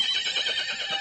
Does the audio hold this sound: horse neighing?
yes